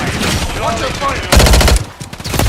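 Gunfire in a military shooter video game: a loud, rapid burst of automatic fire lasting about half a second, followed by a few scattered shots, with radio-style voices talking around it.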